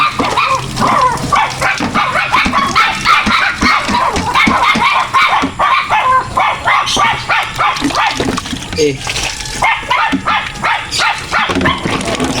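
A dog barks and yips repeatedly in an irregular rhythm, close by, mixed with people talking and some water sounds.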